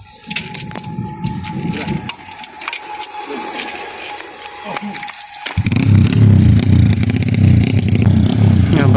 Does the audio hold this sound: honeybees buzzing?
no